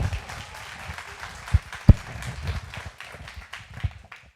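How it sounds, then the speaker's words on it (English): Audience applause for a guest, a special officer speaker, spread across a room as a diffuse low patter with a few sharper claps standing out, moderately loud and steady throughout without talk. "Give him a round of applause"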